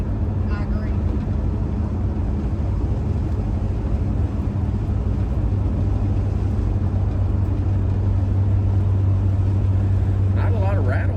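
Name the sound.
AMC Rambler wagon driving on the road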